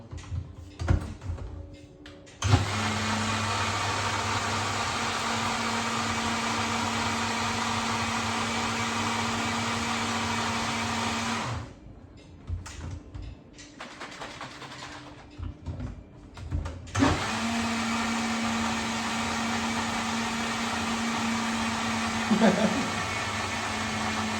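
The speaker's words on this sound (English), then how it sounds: "All right, let's go in the blender." A blender whirs loudly while mixing Asian aioli ingredients, running in a long steady burst, pausing amid clatter and handling, then starting again for another sustained run.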